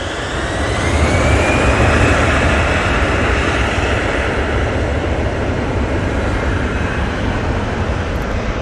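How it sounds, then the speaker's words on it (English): TUI airliner arriving at Manchester Airport, passing close overhead with a loud, broad jet-engine roar and a thin rising whine, heavy from the start and holding steady as it goes by, with no voices. "you should be able to get a good run on this next TUI coming in"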